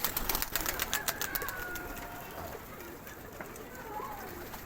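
Pigeons in a loft in Imbaba coo softly in low, rolling calls, preceded by a burst of fluttering and tapping, while a voice is present in the background.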